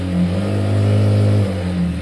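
An electric sewing machine stitches a blouse in a continuous run, its motor hum swelling through the middle and easing back, close and steady with no voices.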